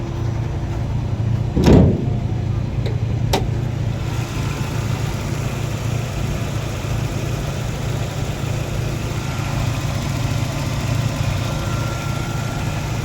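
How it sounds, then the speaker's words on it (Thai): A 1992 Toyota Corolla engine idles smoothly and evenly up close, a steady low hum running throughout, broken early by a single sharp thump and a faint click. "เครื่องเดินเรียบเดินเบาดีครับ"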